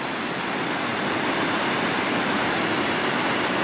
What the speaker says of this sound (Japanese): 流れている滝が見られるのは今だけかもしれないですね